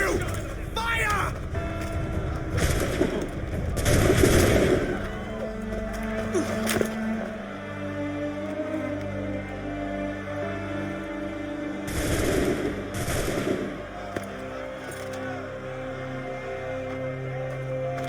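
A gunfire volley in the video game Assassin's Creed III comes as a few loud bursts of shots amid battle ambience, with voices shouting over the scene.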